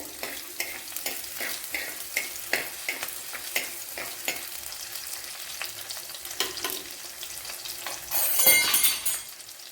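Garlic and green chillies fry in a pan for a Kerala dry-fish curry, a constant sizzle broken by regular stirring scrapes, swelling into a louder hiss near the end.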